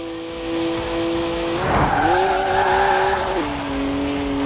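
BMW 1M in Forza Horizon 4 drives hard with engine drone, then a burst of tire squeal as it slides through a corner, loud and close before settling back to engine tone.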